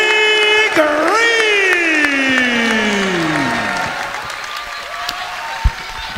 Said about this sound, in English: they're all standing up, applauding Coach Green as he celebrates his retirement